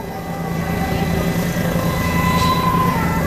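Colombian National Police Halcón helicopter in flight over Cali, its rotor and engine drone a steady, loud, continuous roar with a faint low thumping throughout, heard as if from inside or very close to the aircraft.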